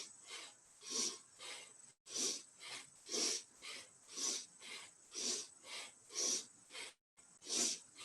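Forceful rhythmic tantric breathing, about a dozen sharp, hissing breaths in and out at a steady quick pace, close and loud, with two brief pauses and no talking.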